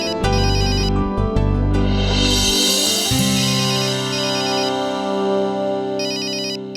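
Mobile phone ringtone playing loud and close as a bright electronic melody with repeating tonal phrases and a strong low beat, continuing without pause and with no voices.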